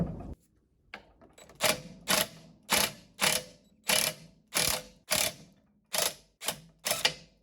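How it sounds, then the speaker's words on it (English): Craftsman impact wrench hammering at a fastener on a Mercruiser outdrive lower unit, firing in about ten sharp rattling bursts of roughly half a second each, evenly spaced with short pauses between, close and loud with no talk. "now I'm going to use my Craftsman impact."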